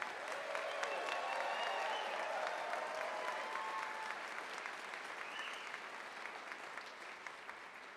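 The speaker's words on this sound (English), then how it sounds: "A big round of applause for our graduates." Sustained applause from a crowd at a nursing graduates' pinning ceremony, steady and full throughout, thinning slightly toward the end, with cheering or voices faintly mixed in.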